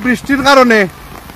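Steady outdoor rain hisses through a brief stretch of someone talking, the patter staying in the background under his voice during a live outdoor broadcast in a village.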